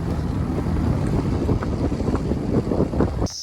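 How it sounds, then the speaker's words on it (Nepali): Steady, roaring cold wind on a mountain walk near Gufa Pokhari, Nepal, buffets the microphone with constant low rumbling gusts, loud and close, then cuts off abruptly near the end. "चिसो चिसो हावामा हिँडिरहेको छौँ हामी।"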